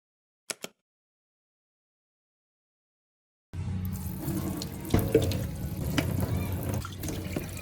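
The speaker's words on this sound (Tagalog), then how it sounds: "Lalagyan natin tubig," Tap water runs into a container to fill it. Two brief clicks come first, then silence, and at the midpoint the loud, steady splashing flow begins close by and continues to the end.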